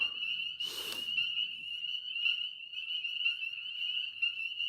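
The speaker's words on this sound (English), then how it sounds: "These, believe it or not, are mostly little tree frogs." Little tree frogs calling at night on an off-grid homestead, a steady chorus of high, rapid trilling croaks continuing throughout, with a brief rustling thump near the start.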